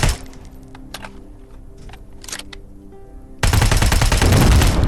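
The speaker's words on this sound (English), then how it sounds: "Pipe grenade. And then destroy this last container." In the Terminator Resistance video game, a pipe grenade destroys a container: a few sharp cracks and thumps over a quiet hum, then a sudden loud, sustained explosive roar that fills the last second and a half.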